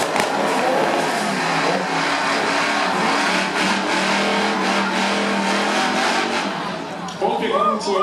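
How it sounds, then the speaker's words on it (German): A supercharged rear-wheel-drive race car accelerating hard at Hockenheim, its engine roaring loudly and steadily as it pulls away, under continuous race commentary. "Der aufgeladene Hecktriebler auf der Ravenolbahn, der geht mal richtig nach vorne."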